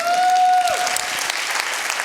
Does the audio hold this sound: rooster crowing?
no